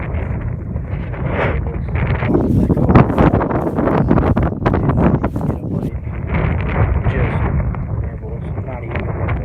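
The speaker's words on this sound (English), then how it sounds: "Super windy." Strong wind roars and buffets the microphone outdoors at a shoreline fishing spot, a loud continuous rumble that swells and eases over several seconds.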